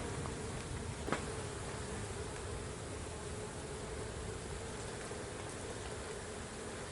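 Honey bees swarming around an opened hive with a hive body removed, a dense continuous buzzing close by throughout, with a brief sharp tap near the start and no talk.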